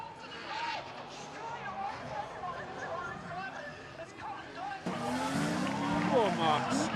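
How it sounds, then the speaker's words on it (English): Drift cars at a UK drifting championship event slide sideways with a handbrake entry, engines roaring and tyres squealing, growing louder near the end over a murmur of crowd and commentary. "Dab of the handbrake as Cotton now brings across speed"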